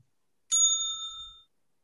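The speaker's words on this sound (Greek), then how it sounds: "Κάθε φορά που θα ακούμε το καμπανάκι σημαίνει έναρξη και λήξη." A small bell marking the start and end of a round in an online improv show rings once, clear and bright, then its tone fades over about a second with nothing else around it.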